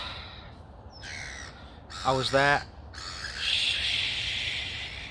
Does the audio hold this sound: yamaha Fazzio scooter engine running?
no